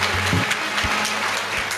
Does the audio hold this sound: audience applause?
yes